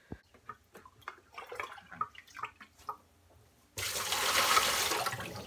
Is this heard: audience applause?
no